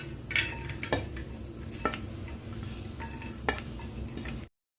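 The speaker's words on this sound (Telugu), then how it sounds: "ఇది ఒక దాంట్లో గిన్నెలో తీసేస్తున్నానండి" Fried lentils are transferred from a pan into a bowl while making a sweet laddu, with quiet scraping and a few sharp metallic clinks of a spoon against the vessel, then a sudden stop.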